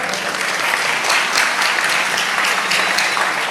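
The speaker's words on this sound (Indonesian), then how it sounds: "Tepuk tangan." Enthusiastic applause from a large crowd, steady and sustained throughout, with no talking over it.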